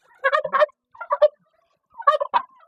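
Turkeys gobble at close range, loud bursts of rapid rattling gobbles in three clusters separated by short silences, with no talking.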